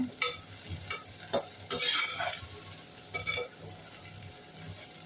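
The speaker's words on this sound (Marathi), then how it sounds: "कांदा छान परतून फ्राय करून घेऊया" Onions with a pinch of asafoetida stir-fried in a pan for mutton biryani make a continuous close sizzle, broken by repeated scraping strokes of a spatula against the metal.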